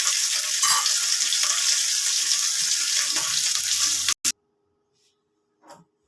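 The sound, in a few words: fish frying in oil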